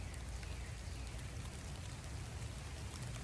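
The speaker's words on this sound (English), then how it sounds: "It's starting to rain." Outdoor rain starting to fall: a faint, steady patter and hiss of drops on surfaces, continuous and without voices.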